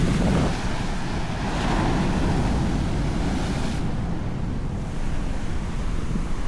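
Atlantic Ocean waves wash and break in a steady, broad rush of surf, blended with wind noise over the microphone.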